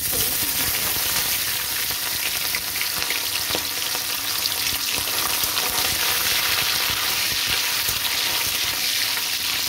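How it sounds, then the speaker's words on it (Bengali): Shutki, dried fish, fries in a pan of oil with a loud, dense sizzle that crackles steadily and close up throughout. "শুটকি মাছটা আমার ভাজা হয়ে গেছে"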